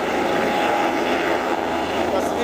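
A loud, steady rotor-and-engine roar fills the air as a helicopter lands close by at a ground in Gangapur City, India, with a rough, continuous wash of noise and no pauses.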